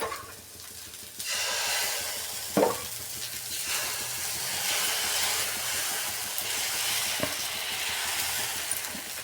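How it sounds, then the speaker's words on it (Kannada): Drumstick (moringa) flowers frying in a pan make a continuous hissing sizzle with a couple of sharp clinks of a utensil against the pan, no talking. "ನೋಡಿ, ಫ್ರೈ ಮಾಡ್ಕೊಬೇಕು. ಇದು ಫ್ರೈ ಆಗ್ತಾ ಇರಲಿ."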